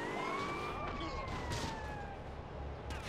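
An ambulance siren in GTA Vice City Stories wails loud and close, its tone sliding slowly downward over a rumble of traffic.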